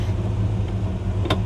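A 1957 Chevy Bel Air two-door idling and pulling away, a low steady engine rumble close by with no talk.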